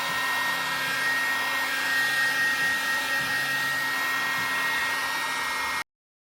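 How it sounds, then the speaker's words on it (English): A heat gun runs steadily with a loud, even blowing whoosh and a faint whine, used on a Chrysler 300 Redeye rebuild, then cuts off abruptly near the end. "Grab this heat gun, warm it up."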